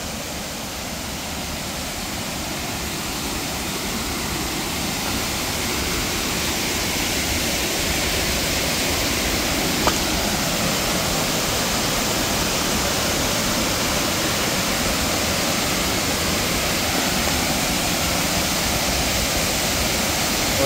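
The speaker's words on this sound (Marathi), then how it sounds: "इथे आता थोडा थोडा धबधबा आपल्याला दिसायला लागला आहे, पण जवळच आलोय. आवाज पण तुम्हाला येतच असेल ऐकायला." A village waterfall roars nearby, a thick unbroken wash of falling water that stays loud and even from start to finish.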